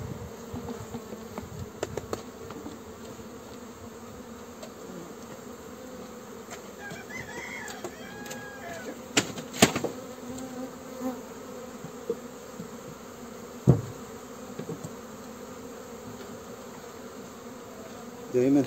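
Honeybees buzz steadily and densely while a colony is moved out of a Langstroth hive into a ten-frame horizontal hive, with occasional sharp knocks and clicks of frames being handled.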